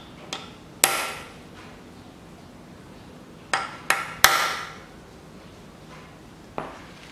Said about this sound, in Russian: здесь керном делаю метку